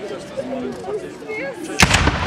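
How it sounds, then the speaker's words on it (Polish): A single loud rifle shot from a Russian sniper firing from a church tower during a 1915 battle reenactment at Bolimów, cracking out sharply and nearby after a stretch of outdoor narration. "Na wieży kościelnej znajduje się snajper rosyjski, który strzela."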